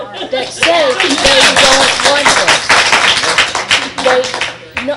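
Audience at a city council meeting clapping loudly and steadily, a dense run of close hand claps lasting several seconds, with voices talking over and under the applause.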